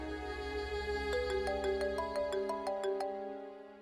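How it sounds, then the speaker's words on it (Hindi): A phone rings with a melodic electronic ringtone in a Pakistani drama scene, a rising run of bright chiming notes over a steady background hum, fading out toward the end with no voices. "चेयरमैन साहब के पीए का फोन।"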